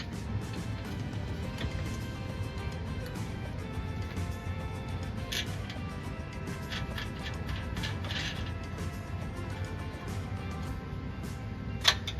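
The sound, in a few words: tightening roof rack bolt with 3/8 wrench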